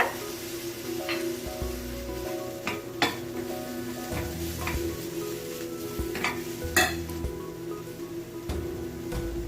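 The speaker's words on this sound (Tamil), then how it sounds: "மறுபடியும் இந்த வெங்காயம் இந்த மசாலா எல்லாம் சேர்த்து இன்னும் ஒரு 2 நிமிஷம் இது நல்லா வதங்கட்டும்." Onion and masala sautéing in a pan for egg masala, with a constant sizzle and repeated scraping and clanking of a spoon against the pan, close up and with no talking.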